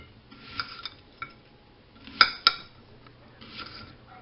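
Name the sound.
knife chopping onion on a plate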